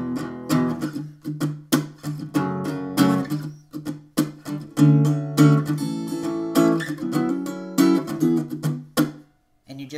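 Acoustic guitar plays a song's chorus, with rhythmic strummed chords and bright pick attacks. It sounds close and fairly loud, ending with a brief pause near the end.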